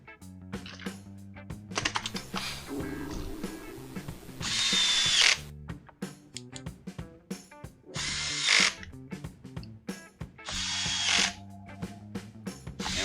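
Cordless power tool driving down the two 8mm nuts on the air filter base plate of a Craftsman chainsaw, three loud whirring bursts of a few seconds each, close by, with clicks and handling noises of parts in between.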